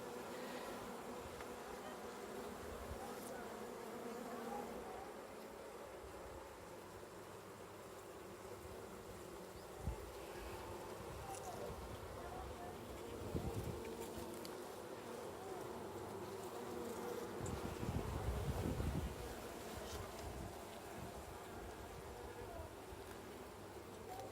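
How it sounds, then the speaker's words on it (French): Honeybees hum and buzz around a hive at close range, a steady drone with individual bees passing by, a soft voice murmuring in the background. "les abeilles sont calmes, donc c'est quand même bon signe"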